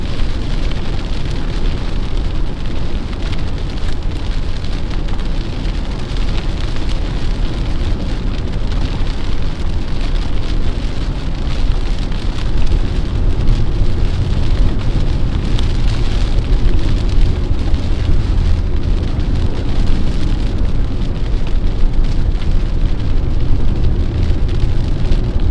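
Heavy rain pours during a storm chase in Colorado amid hail and tornado weather, a dense, steady roar drumming on a vehicle for the whole stretch, loud and close with no pauses.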